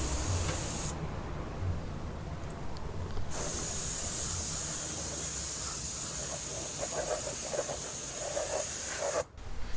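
Small paint spray gun laying full coats onto Land Rover Series 3 panels, a close continuous hiss of spray in long bursts with brief pauses, loud and steady.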